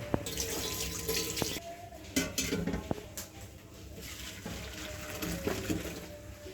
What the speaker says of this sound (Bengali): এরপরে এটাতে আমি ঢেলে নিব এই ফুটো গামলাটাতে।